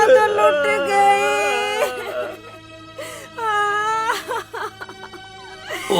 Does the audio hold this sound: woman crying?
yes